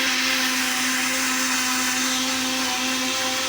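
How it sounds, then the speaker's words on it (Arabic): An electric blender runs steadily at a constant high whir while whisking mayonnaise ingredients of salt and white vinegar, close and loud with no pauses. "نرجع بنخفقهم."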